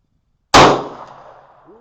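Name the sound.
Magnum Research 1911G10 pistol firing Armscor ammunition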